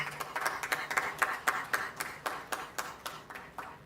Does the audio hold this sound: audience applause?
yes